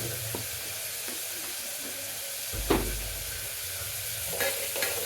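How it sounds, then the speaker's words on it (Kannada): Ingredients for lentil sambar (bele saaru) frying in a pan, with a steady sizzle and occasional stirring scrapes and knocks, close and moderately loud, with no talking. "ಫ್ರೈ ಆಗಲಿ ಚೆನ್ನಾಗಿ"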